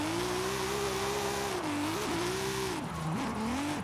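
A 2014 BMW M4 drift build in Forza Horizon 5 drives with a loud, steady engine drone that holds high revs, dipping and rising briefly as the throttle shifts, with no voices.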